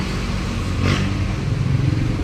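A Hyundai Accent engine idles roughly, its low hum rising and dipping unevenly for a couple of seconds as the RPM fluctuates, with a brief hiss partway through.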